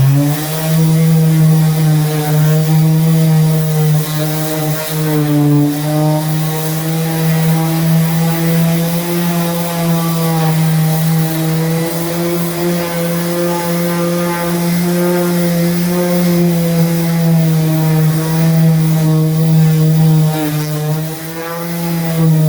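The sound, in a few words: palm sander sanding wood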